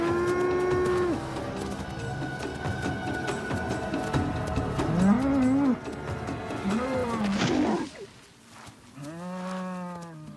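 Cattle on Maasai herding land, where a lioness is stalking a cow, moo in long, loud, drawn-out calls, one near the middle and another at the end, over a busy outdoor background.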